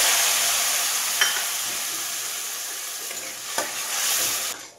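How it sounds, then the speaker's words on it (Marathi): Ground spice paste fries in hot oil for chakulya, a dense continuous sizzle with a couple of sharp stirring scrapes, close and fairly loud, fading slightly near the end. "हे वाटण आहे ना मी छान असं तेल सुटेपर्यंत भाजून घेणार आहे"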